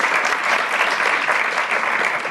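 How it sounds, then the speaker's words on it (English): A conference audience applauds a panel at an education and climate action forum, dense steady clapping that holds evenly loud throughout, with no voices. "can we give this wonderful panel a round of applause?"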